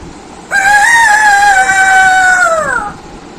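A voice imitates a rooster's crow: one loud, long, sustained call that falls away at the end.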